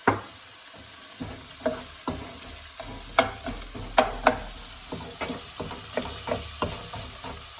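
Garlic sizzles in a hot pan with onion salt while being stirred, a steady frying hiss broken by repeated knocks and scrapes of the utensil against the pan, close and fairly loud, with no talking.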